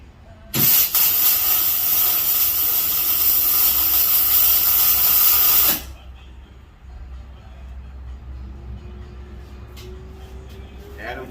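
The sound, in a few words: gas hissing after being turned on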